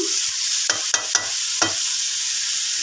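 A spoon stirs sinigang with prawns in a pot, making four short scraping strokes over a low background hiss, close and fairly loud.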